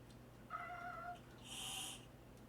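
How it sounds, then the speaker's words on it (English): A cat lets out a strange, drawn-out meow, rising into a higher strained tone partway through, close by in an otherwise quiet room. "There's his weird meow thing"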